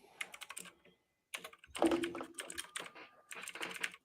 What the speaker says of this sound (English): Now I'm just typing here.